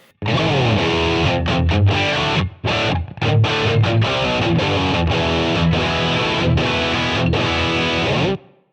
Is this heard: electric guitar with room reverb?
yes